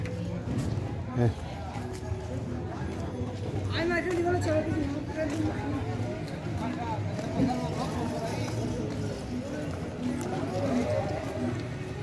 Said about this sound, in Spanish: Ahí están los caballitos, mira, bonitos caballitos.